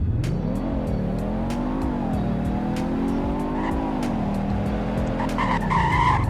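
A fast car pulls away from a dealership in the Roblox game Greenville, its engine note climbing and dipping through gear changes over several seconds, with tire squeal and steady loud drive noise throughout.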